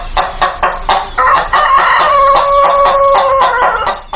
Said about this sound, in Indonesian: yang ini seekor ayam.